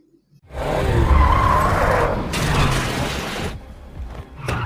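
Car tires screech and skid loudly during a getaway from police, a harsh sustained squeal with a rumbling engine, fading briefly before another burst at the end.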